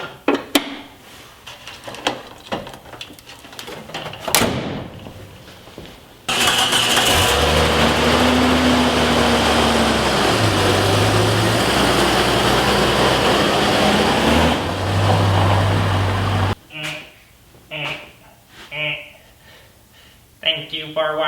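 A Jeep fitted with a homemade snorkel starts up and drives off on a test run. A loud, steady engine drone holds for about ten seconds with gear shifts, then fades to scattered knocks and bumps.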